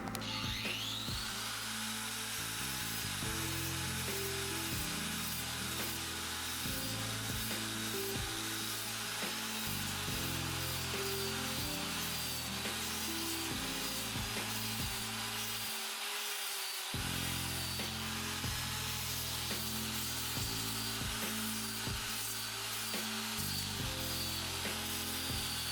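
Arbortech Mini Carver fitted with a standing disc carving wood, a continuous high-pitched grinding whine with rhythmic rasping pulses as the disc bites and lifts, close and steady with one brief pause.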